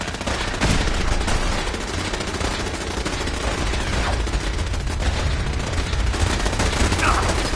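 Dense gunfire in the Fallout 4 video game, a continuous loud barrage of rapid shots and bursts with no pause throughout.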